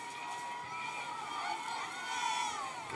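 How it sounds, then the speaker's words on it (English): Faint, distant murmur of fans in the stands at a high school football game, Dutch Fork against Ridge View, a steady blend of voices and cheering at a far remove. "Having a good time in the stands here, Dutch Fork."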